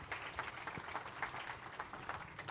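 Audience applause at an insurtech conference, a moderate wash of clapping hands with a few distinct claps rising in and out, fairly quiet and not far off.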